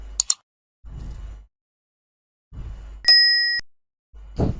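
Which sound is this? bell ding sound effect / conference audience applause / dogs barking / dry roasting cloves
bell ding sound effect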